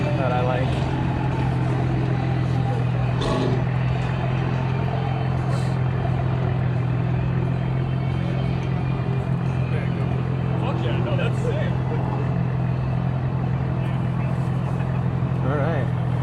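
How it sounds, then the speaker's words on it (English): A catless BMW M4 tuned to around 750 horsepower drones steadily in city traffic, its engine a constant low rumble throughout, with people talking over it. "Yeah, that's the motor. That's the motor that I like."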